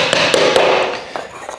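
A few sharp taps ring out as uprights are hammered into the triangle connectors of a plant stand, close and fairly loud, with irregular spacing and a brief resonant ring after each strike.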